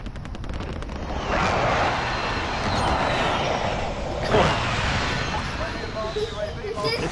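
Sustained gunfire from a light machine gun in a battle-royale shooter game, dense bursts with loud impacts running through the whole stretch, with voices talking over it.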